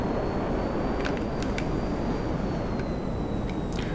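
Steady roar of a Buckingham Pyro jet engine in Grand Theft Auto, a broad continuous drone with a faint high whine drifting across it and a few light clicks, with no speech.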